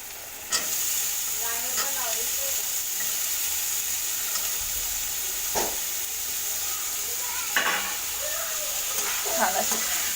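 Ivy gourd (tondli) for a potato and tondli dish sizzling in a pan as it is mixed, a steady close hiss with occasional scrapes and clinks of a spoon; someone speaks faintly now and then.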